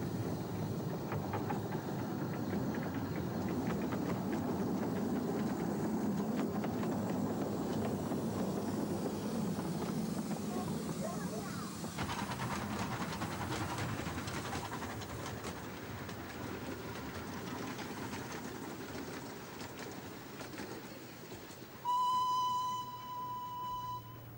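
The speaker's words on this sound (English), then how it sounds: "In marked contrast is a 15-inch gauge locomotive, Princess Elizabeth, built in 1914 by Bassetlaw." The 1914 Bassetlaw-built 15-inch gauge miniature locomotive Princess Elizabeth runs along a mile-long miniature railway, a steady rolling rumble and wheel clatter carrying throughout, easing later before a short whistle-like tone near the end.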